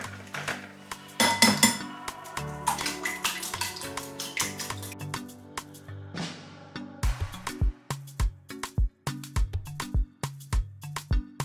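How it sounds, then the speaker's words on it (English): Eggs cracked into a pan beside cherry tomatoes at breakfast, giving several sharp taps and clinks followed by sizzling, with a run of distinct close knocks toward the end. "I'm going to crack the eggs in there."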